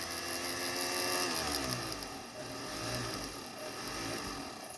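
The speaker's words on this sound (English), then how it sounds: "Just letting the weight of my hand and the drill push into the stone." Rotary drill boring a hole into a gemstone held underwater, pressed in only by hand weight; a steady continuous grinding whine with low rumbling, close and fairly loud throughout, no speech.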